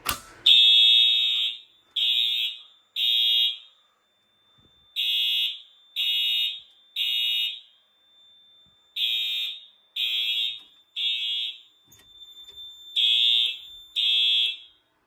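A fire alarm horn on an AFP-200 system under test blares in a repeating pattern of loud, shrill blasts separated by short pauses, close by and with no one speaking.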